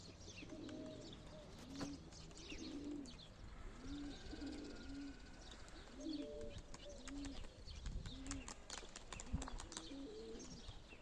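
Soft, repeated pigeon coos sound at a gentle rhythm over faint outdoor ambience, with occasional light chirps and rustles in the background.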